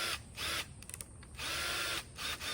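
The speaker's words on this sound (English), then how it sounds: "So I'm going to use the power tool and just go slow with it." A power drill at a turned-down speed whirs in short bursts, driving screws while assembling a YakAttack BlackPak Pro crate, stopping and starting with clicking between runs, close and steady at a moderate speed.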